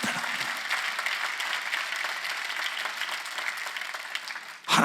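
A church congregation at a Sunday worship healing service bursts into sustained applause, many hands clapping steadily and loudly in a large room for several seconds, with a fresh surge at the very end.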